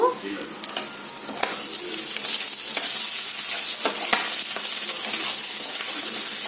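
Goat tripe (boti) curry sizzles and fries in a pan, with a steady loud crackle. A spoon scrapes and stirs through it in repeated strokes, close up and with no talking.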